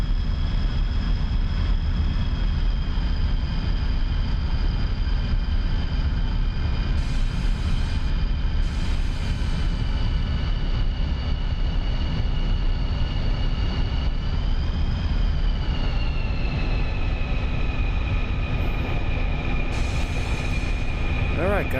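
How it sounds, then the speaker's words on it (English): A MiG-21 jet in the DCS flight simulator drones with a steady, loud engine roar and a constant high whine that dips slightly in pitch partway through, with a few faint clicks over the continuous noise. "That's the first time flying the MiG-21 for real, taking off and landing."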